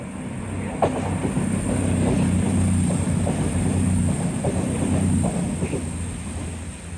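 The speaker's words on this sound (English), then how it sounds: "that passing train" A train rolls past at a moderate distance, a steady rumble with faint rhythmic clacks of wheels over rail joints.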